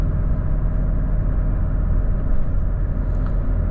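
Volvo FH 540 truck engine holding ninth gear at a steady 2000 rpm on a mountain grade, a loud continuous low diesel drone heard from inside the cab with no talk.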